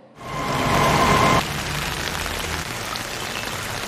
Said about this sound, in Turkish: Gece itibariyle sağanak şekilde devam eden yağmur, gündüz şiddetini arttırınca sel ve su baskınlarına neden oldu.